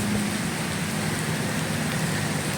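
Rain pours onto a flooded road on Bang Pla Road in Tha Sai, Samut Sakhon, a continuous close hiss of drops hitting water and pavement, steady throughout with no voices.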